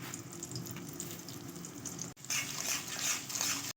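Tamarind spice mix with sugar frying in a pan for a sweet-sour garlic and green chilli pickle, a steady close sizzle with a brief break, then a brighter, louder hiss as the mixture keeps cooking.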